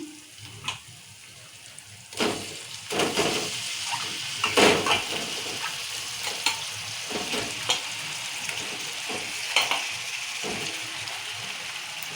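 Fish fries in oil with onion paste in a pan, a continuous sizzle broken by periodic stirring knocks and scrapes, fairly close and unaccompanied by talk.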